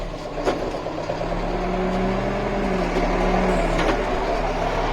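A tractor engine drones steadily in the field during cultivation with autopilot steering, a moderate continuous mechanical hum with a couple of faint clicks.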